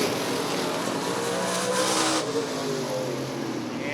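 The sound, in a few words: race cars at Rockford Speedway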